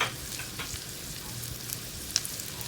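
Onions and mushrooms sauté in a pan for shrimp Gorgonzola, giving a steady soft sizzle with faint stirring clicks and one brief sharper scrape near the end.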